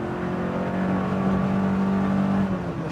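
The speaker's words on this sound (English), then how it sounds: "Engine is super responsive with this setup." A BMW 2002tii engine revs while driving through narrow lanes, a steady close engine drone that rises in pitch midway then eases off, heard alone without talk.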